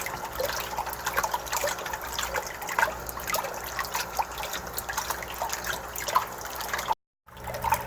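Water runs and splashes steadily, a constant trickling wash broken by a brief silent gap near the end.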